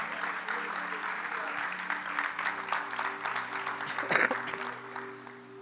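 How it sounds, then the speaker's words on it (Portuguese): A church congregation applauds together, a dense steady wash of clapping lasting several seconds with sustained organ or keyboard tones underneath and a brief louder swell near the end. "Você pode dar uma salva de palmas ao Senhor Jesus?"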